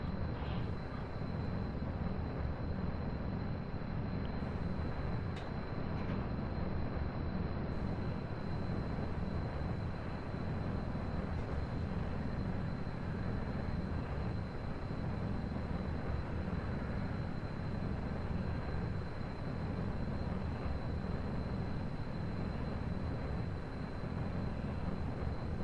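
Juno jet engines roaring together for an assisted takeoff in Kerbal Space Program, a steady, loud, broadband engine drone that holds unbroken from start to finish with no voices.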